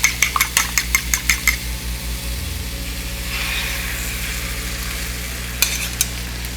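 Eggs frying in a pan on a home stove, a steady close sizzle with a few sharp clinks of a utensil against the pan at the start and again near the end.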